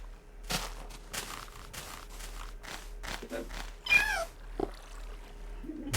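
A cat meows in the Minecraft video game, a short in-game mew near the middle, set among clicks and shuffling noises with some talk around it.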